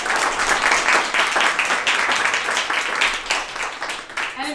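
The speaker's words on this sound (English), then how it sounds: "And another round of applause for Mashonda." An audience at a talk on cultural contexts claps for the speaker Mashonda, a steady patter of applause from a moderate-sized crowd that runs the whole time at even loudness and tails off slightly at the end.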